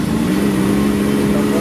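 Engine of a Sokol amphibious ATV revving steadily at high rpm, a loud sustained mid-pitched drone held close up without letup.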